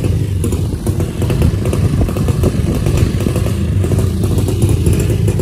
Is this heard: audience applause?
no